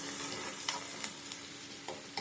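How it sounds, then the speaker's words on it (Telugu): Onions and green chillies sizzle steadily in a pan while a spoon stirs them, with occasional sharp scraping clicks over the frying hiss. "ఎర్రగడ్డ ఇలా వేస్తాము. ఇది బాగా వాడిపోవాలి."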